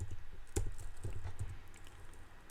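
Computer keyboard keys being typed in short irregular clicks, with a few louder key strikes, as a shell command is entered; no voices.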